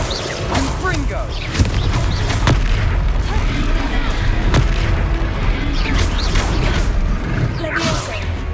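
Booming blasts from the Confringo explosion spell in the Hogwarts Legacy video game, several heavy concussive hits in rapid succession amid battle noise, with a player shouting over the action.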